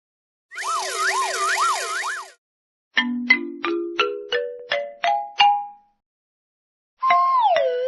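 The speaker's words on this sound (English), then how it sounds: "Police car." A police car siren in a children's vehicle and colour learning piece, first a wailing sweep, then a rising sequence of bell-like dings, then a fresh siren tone at the end, clear with no talking.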